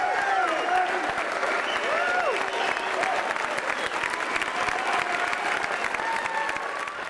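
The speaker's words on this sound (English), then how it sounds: "they gave him a standing ovation" Sustained standing ovation for chess champion Garry Kasparov after his match against IBM's computer, dense steady clapping from a large crowd with occasional voices and whistles mixed in, loud throughout.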